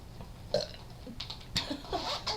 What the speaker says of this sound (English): I love burping. I think it sounds cool.